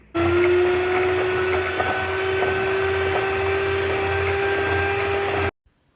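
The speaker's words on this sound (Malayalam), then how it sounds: "അതിനായിട്ട് ഞാനിവിടെ 1 കപ്പ് വിപ്പിംഗ് ക്രീം എടുത്തിട്ടുണ്ട്. നന്നായിട്ടൊന്ന് ബീറ്റ് ചെയ്തെടുക്കാം." An electric beater whips a cup of whipping cream with a loud, steady motor whine that rises slightly in pitch. It runs continuously at close range for about five seconds, then cuts off abruptly.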